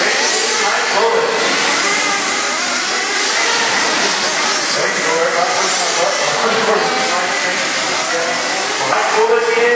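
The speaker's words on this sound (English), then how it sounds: "We got a race for Mike Bullock." Race cars roar around an oval track, a dense, steady wash of engine noise with a constant hiss, while an announcer calls the race over it.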